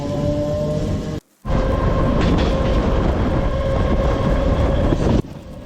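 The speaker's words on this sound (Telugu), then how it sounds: "ఈ ట్రైన్ చాలా స్పీడ్గా వెళ్తుంది, చాలా స్పీడ్గా తీసుకెళ్తుందండి" A MEMU express train runs at high speed on rails between Vijayawada and Gudur, a loud, steady, close rumble with wheel clatter throughout and one brief dropout.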